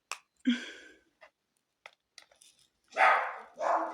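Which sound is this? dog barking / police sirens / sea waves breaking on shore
dog barking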